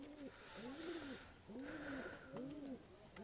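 Tula pigeon cooing in a home loft, repeated soft rising-and-falling coos in a steady rhythm, close but quiet, with no talking.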